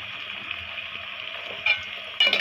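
Chunks of taro (kochu) tip into a hot pan and fry with a steady close sizzle, and two louder bursts of crackling follow as more pieces go in and get stirred.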